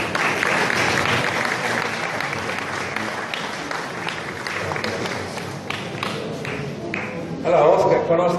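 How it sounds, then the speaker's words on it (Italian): Audience applause at an Italian interview event, a steady dense wash of clapping from a crowd that holds for several seconds and swells briefly near the end. "Un applauso!"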